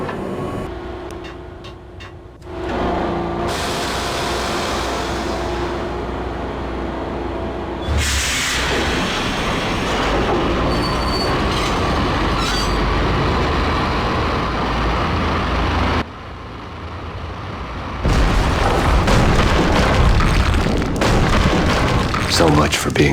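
A subway train in the video game Max Payne powers up and starts moving, with loud, steady rumbling and booming machinery that surges in sudden steps and carries through the whole stretch.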